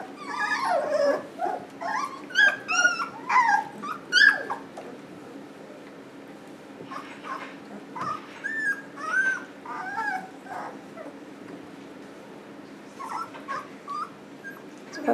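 Three-week-old Irishdoodle puppies whimper and yip in repeated high, thin cries, loudest early on before thinning to sparser squeaks over a faint steady hum.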